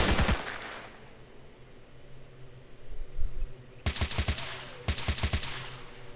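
Gunfire from a weapon in the video game S.T.A.L.K.E.R., with a sharp shot at the start followed later by two rapid automatic bursts of several loud, close, evenly spaced rounds each, set against quiet background ambience.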